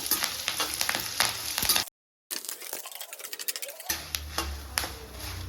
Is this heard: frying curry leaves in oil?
yes